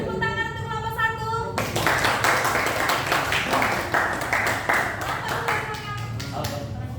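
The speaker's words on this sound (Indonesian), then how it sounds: "Kasih tepuk tangan untuk kelompok 1." A group claps together in a burst of applause that starts suddenly and continues steadily, with children's voices chattering over it.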